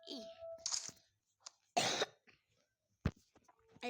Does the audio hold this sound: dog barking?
no